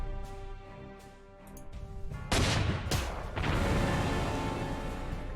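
Artillery fires in the strategy game Panzer Corps, set in 1939, a series of sharp booming blasts and crashing bursts, loud and close, over a humming background.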